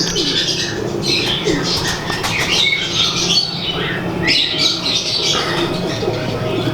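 Dub pigeons on a rooftop loft in Kasur, continuous cooing and squawking with fluttering, close and steady, with faint voices in the background.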